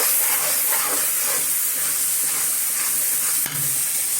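Spices (turmeric, chili powder, salt and coriander powder) frying in hot oil in a pan give a steady, close sizzling hiss throughout, with a brief clatter near the end.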